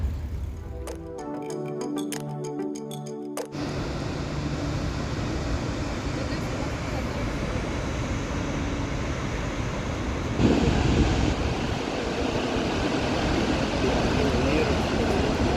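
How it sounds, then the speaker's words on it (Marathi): Snoqualmie Falls in Washington state gives off a steady, dense roar of falling water that fills the whole scene after a brief patterned burst at the start, with voices talking over it. "आता आम्ही आलो आहोत वॉशिंग्टन राज्यामधल्या स्नो कॉलमी धबधब्यावर"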